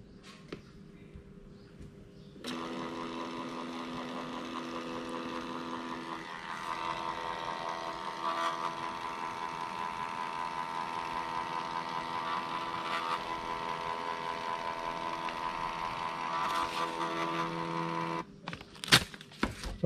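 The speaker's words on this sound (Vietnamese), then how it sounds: "Rồi các bạn vào các bạn in thử thôi." A mini sticker printer running a print job sent from a phone app gives a steady mechanical whir with tonal hum, holding for about sixteen seconds before stopping, close and alone.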